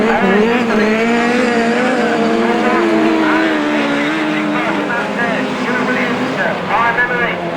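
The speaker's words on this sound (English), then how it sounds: "Russ Thompson goes right around the outside." Autograss race cars roar around a dirt track at St Neots, several engines revving and overlapping continuously with tire noise, loud and steady throughout while a commentator talks over the action.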